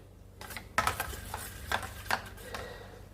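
A spoon stirs banana sughiyan batter in a bowl, giving several light scraping clinks at irregular intervals over a quiet background.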